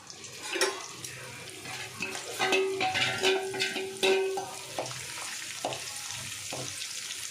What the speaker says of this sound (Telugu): పచ్చిమిరపకాయలు కరివేపాకు జీడిపప్పు ఇవి కూడా యాడ్ చేసుకొని బాగా ఫ్రై చేసేసుకుందామండి